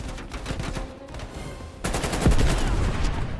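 Gunfire in the video game Call of Duty Black Ops Cold War: rapid automatic bursts in a steady rhythm, loud and close, growing heavier halfway through, with no talk.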